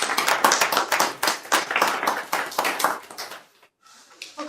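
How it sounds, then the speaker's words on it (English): An audience gives a round of applause for a guest speaker who has presented on taxes at an agricultural business kickoff meeting, a burst of clapping lasting about four seconds before breaking off, then a faint patter resuming. "Let's give Leslie a round of applause."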